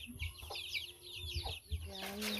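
Chickens and young chicks cluck and peep in a backyard coop after feed is scattered, with a steady chorus of high chirps and several louder low clucks close by.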